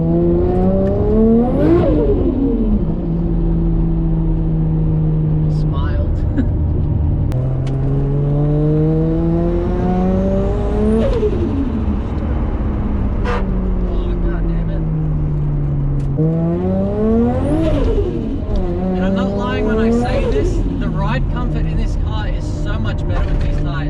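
A built Nissan R33 Skyline on new 17-inch wheels accelerates through several gears, its engine note repeatedly climbing in pitch and dropping at each shift. The engine sounds close and loud from inside the car.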